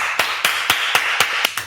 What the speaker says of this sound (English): Give me a round of applause for Matt.